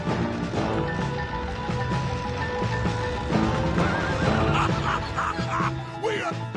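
Horses in the Red Dead Redemption 2 video game whinny and snort over the clip-clop of hooves and busy game ambience, with a neigh rising near the end.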